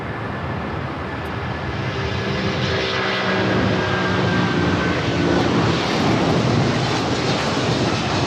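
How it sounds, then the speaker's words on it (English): An Avianca Cargo plane run by Avianca Cargo Mexico, flight 7081, roars steadily at LAX. The loud, broad engine rumble holds and swells slightly as the aircraft moves, with no talk over it. "That is Avianca Cargo, operated by Avianca Cargo Mexico"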